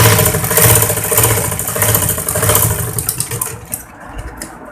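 A sewing machine motor hums steadily while stitching thin fabric for an apple-cut kurti, with a rapid pulsing run that eases and slows toward the end.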